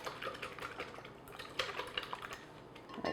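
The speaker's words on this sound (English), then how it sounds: "I'm just taking a wire whisk and kind of whisking in that cream of tartar into the whites" A wire whisk stirring cream of tartar into egg whites in a bowl, with faint, soft, irregular clicks and swishes against the side of the bowl.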